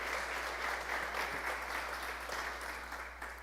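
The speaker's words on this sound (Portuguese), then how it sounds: "Por favor, aplauda ele." Congregation applause in a church service, a dense steady wash of many hands clapping at moderate volume throughout.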